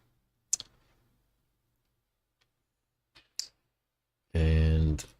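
A few sharp, isolated mouse clicks on a computer while editing a design in Canva, spaced apart in a quiet room, followed by a brief burst of a voice.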